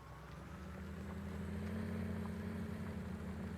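A new John Deere tractor ploughing a field with a new plough gives a steady, close, low engine drone that holds evenly throughout with no talk.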